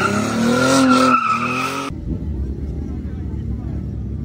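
A Toyota Mark X drifts hard on a track at night, its tires squealing loudly for about two seconds before cutting abruptly to a low engine rumble with faint voices.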